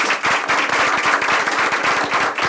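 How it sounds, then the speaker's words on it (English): Audience applause for speakers at a United Nations Alliance of Civilizations media program, loud, dense and continuous clapping from a close crowd throughout. "Please just give a round of applause to our speakers."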